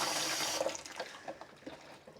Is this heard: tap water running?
yes